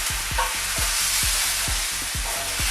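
A vegan stir-fry with chili pepper sizzles steadily in a very hot wok while a utensil scrapes and stirs in quick, regular strokes, close and alone.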